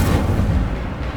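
A fiery Incendio spell blast in the Hogwarts Legacy video game, a loud, dense low rumbling burst that fills the moment and then slowly tapers off, with no voices over it.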